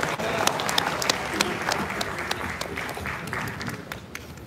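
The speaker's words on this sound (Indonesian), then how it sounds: "Tepuk tangan sekali lagi buat Abah" Applause from a large crowd at a volunteer rally, a dense steady wash of clapping close by, holding at an even level and fading slightly toward the end.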